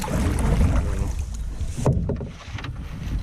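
A canoe paddled across Balsam Lake by a solo camper, with steady water swishes and paddle strokes close by under a constant rush of wind on the microphone.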